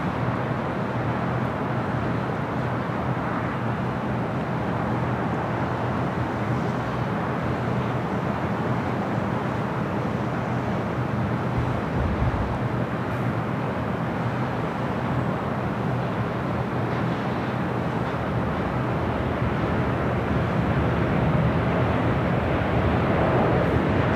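An Atlas Air-operated Boeing 777 freighter roars on arrival toward runway 25 left at LAX, a steady, loud broadband jet rumble that persists unbroken throughout.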